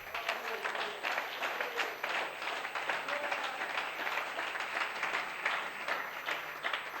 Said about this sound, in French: Une main d'acclamation.